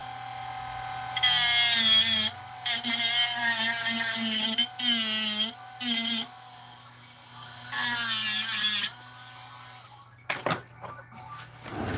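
A power grinder smoothing a surface whines loudly and close in repeated bursts of varying pitch, with brief pauses between passes, then stops and gives way to a few clanks.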